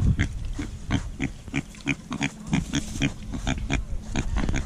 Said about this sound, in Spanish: Los puercos ya están más grandes, ya se dejan agarrar un poco más.